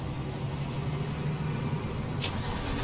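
Steady low road-vehicle rumble of cars driving in the Euro Truck Simulator game, a continuous engine and traffic drone held at a constant level throughout, with a brief brighter hiss near the end and no talking.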